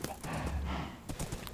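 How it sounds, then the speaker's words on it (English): A video game horse neighs and whinnies, with hoof clip-clops in a quick uneven rhythm, fairly loud and mixed with a voice talking over it. "Stop shooting my horse."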